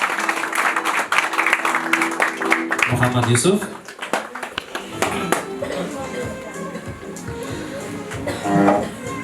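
An audience claps at an academy opening ceremony as a certificate recipient is welcomed on stage, with dense applause for the first few seconds before it thins out and a voice talks over the hall.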